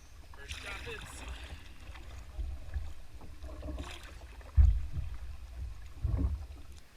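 A canoe running its first rapids on a river in Quebec, with rushing water, paddle splashes and wind buffeting the microphone, broken by a few louder surges; people speak briefly now and then.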